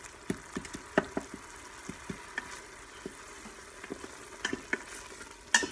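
Frozen celery and onions cook in butter in an Instant Pot, giving a faint, steady sizzle broken by scattered sharp knocks and clicks, close and fairly quiet.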